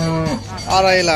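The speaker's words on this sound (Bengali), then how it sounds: "বিশাল বড় একটি গরু আসছে।" A large cow lows loudly and close at a cattle market during Qurbani season, a long deep moo with a second swelling call, while a voice briefly speaks over it.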